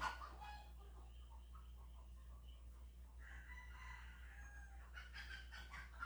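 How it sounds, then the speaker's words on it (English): Roosters crow in a series of loud, close calls from a yard of fighting cocks, several crows overlapping in quick succession over a steady low hum, with no voices. "The roosters like to fight, y'all."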